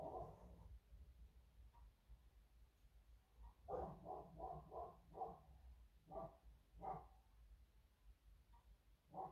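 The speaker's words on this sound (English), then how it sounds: "Listen to my dogs bark." Several dogs bark from somewhere off in the house, faint and a little distant, in irregular bursts of quick barks with short gaps between them.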